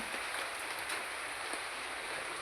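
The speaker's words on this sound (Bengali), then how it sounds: "এই বৃষ্টি তো এখন সব দিকেই হচ্ছে" Rain falling, a soft, even hiss of drops with faint scattered patters, fairly quiet and continuous with no voices.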